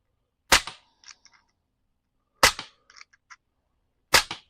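Three sharp pops from a Sig Sauer M17 blowback airsoft-style pistol, fired singly about two seconds apart outdoors, each crack followed by a short rattling echo and small clicks, with no talking.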